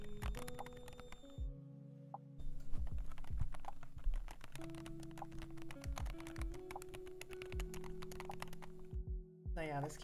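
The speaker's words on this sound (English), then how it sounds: "You can hear me typing, yeah." A computer keyboard clacks with steady bursts of quick keystrokes, crisp and close, while a tonal background sound plays underneath.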